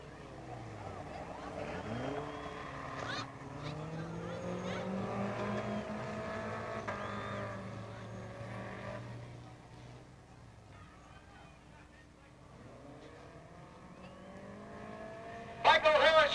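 Stock cars race around Peoria Speedway at an old timers day, engines droning and swelling as they pass at a distance, with a louder burst of engine noise at the end.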